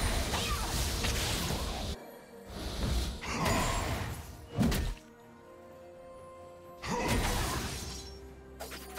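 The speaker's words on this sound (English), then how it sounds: "Blue team's turret has been destroyed." A turret is destroyed in League of Legends with heavy crashing, shattering impacts arriving in several bursts separated by short gaps, loud and close.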